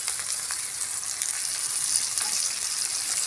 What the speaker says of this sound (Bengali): এবার মশলাটা আমি ভালো করে কষে নিই